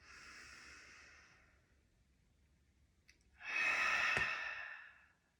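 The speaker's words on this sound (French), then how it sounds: "On va prendre une longue inspire. Et on expire par la bouche." A long, soft breath drawn in, a pause, then a fuller breath pushed out through the mouth during a yoga breathing exercise, close and quiet.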